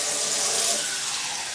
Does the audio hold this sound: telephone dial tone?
no